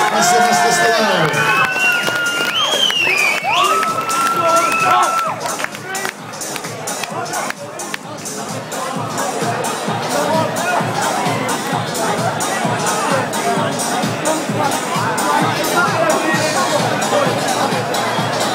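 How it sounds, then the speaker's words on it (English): A crowd cheers and applauds for two fighters after a camp fight bout, a swelling babble of clapping and shouts that runs steadily after a few seconds of voices. "can we have a round of applause for our two fighters tonight, Tom Hulker and Sylvester Stallone."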